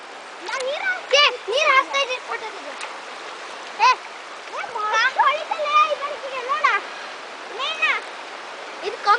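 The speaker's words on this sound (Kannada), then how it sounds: "ಇದು ನಮ್ಮ ರಾಗನಶಿನಿ ನದಿ ಹೊಳೆ" The Aghanashini river stream rushes in a continuous watery hiss beneath frequent chattering voices that dominate the foreground.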